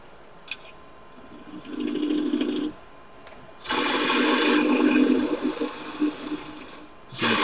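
Henry Taylor spindle gouge cutting into a one-piece wooden scoop spinning on a lathe, giving bursts of rough scraping whir, a short one and then a longer sustained one, with the lathe humming underneath.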